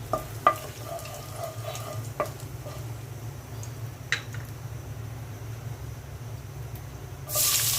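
Whole garam masala, five-spice seeds and dried chili drop into hot oil in a home kitchen, giving faint scattered crackles and ticks over a low steady hum, then a sudden loud burst of sizzling at the very end.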